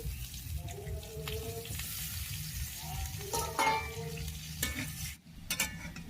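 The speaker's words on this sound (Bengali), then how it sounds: "কড়াইতেই আবার তেল দিয়ে আমি আলুটা ভেজে নেব।" Oil sizzles as potatoes fry in a wok, with occasional clinks and scrapes, plus a brief watery rush near the end.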